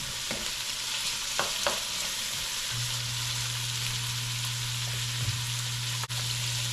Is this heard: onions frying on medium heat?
yes